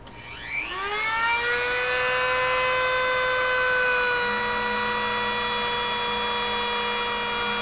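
A small CD-ROM motor spun up as a generator with no load attached gives a rising electric whine that sweeps upward in pitch over the first second. It then holds a steady, loud, multi-toned hum, and no one talks over it.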